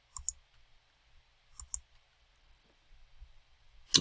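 Computer mouse clicks in short double-click pairs, crisp and close, with quiet gaps between and a final louder click at the end.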